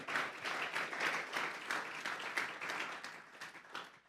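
A church congregation applauds as an offering of praise during a sermon, a steady, moderately distant wash of many hands clapping that holds evenly for the whole stretch.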